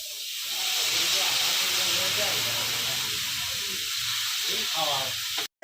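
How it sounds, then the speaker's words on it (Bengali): Fried vegetables in a hot pan for veg chowmein hiss and sizzle loudly just after soy sauce is poured in, a steady steamy rush that eases slightly before cutting off at the end. "সবজিগুলো সব ভাজা ভাজা হয়ে গেছে"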